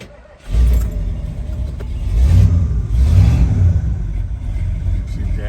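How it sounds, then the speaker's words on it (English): A 1980 Ford Bronco engine cranks and catches at about half a second, then settles into a loud, steady rumbling idle with a couple of revs swelling through it. "We'll start up our 80 Bronco here."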